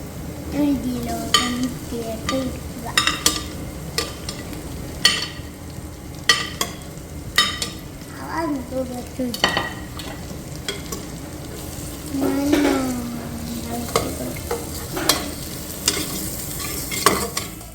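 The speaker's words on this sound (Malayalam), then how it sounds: "സവാള നല്ല രീതിയിൽ ഒന്ന് വഴന്നു വന്ന ശേഷം ഇഞ്ചി വെളുത്തുള്ളി പച്ചമുളക് പേസ്റ്റ്" Onion sautéed with ginger, garlic and green chili paste for a mutton kurma sizzles in a pan under repeated close stirring scrapes and spoon taps, with occasional voice in the background.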